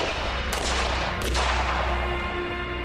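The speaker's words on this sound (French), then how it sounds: "Je tire un coup de feu" Gunshots ring out at a shooting range as a target is fired on, two sharp cracks about half a second apart followed by a lingering reverberant tail over a steady low background hum.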